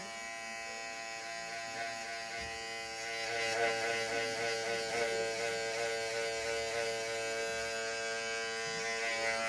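An electric hair trimmer buzzes continuously and close up through a high fade haircut, a steady even hum that grows slightly louder partway through as the clipper is worked along the line.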